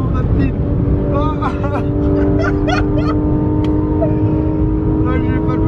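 A Porsche 911 GT3 RS at speed on a fast race circuit, its engine a steady loud drone throughout with rising whining tones, while a voice talks over it.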